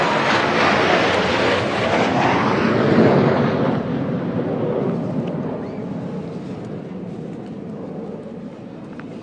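A formation of aircraft making a low flat pass at an airshow under low cloud, a loud broad jet roar that swells and then slowly fades into the distance.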